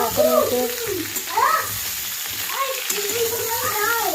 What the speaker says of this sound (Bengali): এই যে দেখো আলুগুলো ভেজে নিচ্ছি